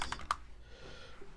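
A few quick clicks of typing on a computer keyboard at the start, close and fairly crisp, followed by quiet room tone for the rest of the brief moment.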